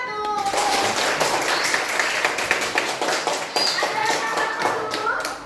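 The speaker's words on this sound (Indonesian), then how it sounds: "Kita beri aplaus dulu untuk kelompok 1." Applause for the first student group in a classroom coaching session: dense, steady clapping from many hands filling the whole stretch, fairly loud and close, with faint children's voices mixed underneath.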